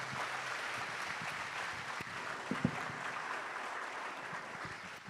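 An audience at a summit claps after a speech, a soft, steady patter of many hands heard from a distance, with a couple of sharper knocks standing out near the middle before the sound tapers.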